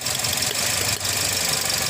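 A 2022 Toyota Vios with the 1NR engine runs rough and misfires, jerking with no pull. It makes a loud, steady, close mechanical drone with a brief stumble in the middle.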